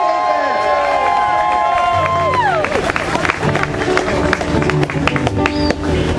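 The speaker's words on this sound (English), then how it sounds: "Big round of applause for Jacob Sawyer." Crowd at a political rally applauding and cheering, loud and sustained, with music tones and clattering claps mixed in and babble running throughout.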